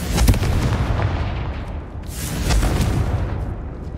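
A Confringo spell explosion in the Hogwarts Legacy video game: loud, rumbling fiery blasts with crackling bursts, one at the start and another swelling about halfway through, close and continuous.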